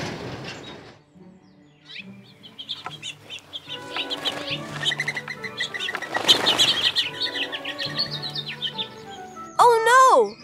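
Cartoon baby birds chirp in a nest in a tree, with a run of thin, high tweets and wing flutters mixed with other animated effects and a voice near the end.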